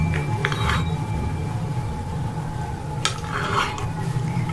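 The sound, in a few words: mixing fruit chaat in a bowl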